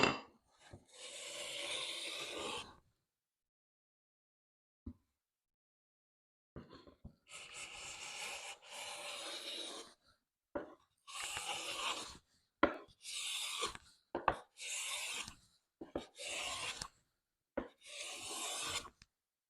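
An HNT Gordon A55 smoothing plane shaves fine curls from a cherry test board in repeated strokes, each a close, crisp rasping swish separated by short pauses, with no talking.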